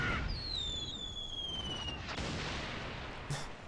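Single gunshot in the claymation adventure game The Neverhood, a sharp report followed by a whistling, descending ring and a low rumbling tail, with a faint later thump.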